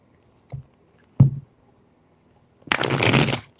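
Tarot cards are shuffled in short bursts: two brief riffling taps, a pause, then a longer, louder rustling shuffle lasting about a second, close up with no talking.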